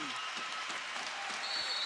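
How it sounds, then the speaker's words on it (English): Spectators applaud at a 1994 men's volleyball match against Ohio State, a steady, dense wash of clapping and crowd noise that holds at an even level throughout. "Crowd on its feet as usual here."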